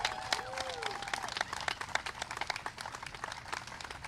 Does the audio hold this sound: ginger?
no